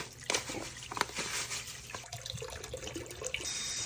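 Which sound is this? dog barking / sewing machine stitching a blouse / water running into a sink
water running into a sink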